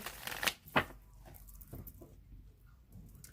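A deck of tarot cards is shuffled by hand, two sharp riffling bursts close to the ear followed by softer card slides and taps in a quiet room.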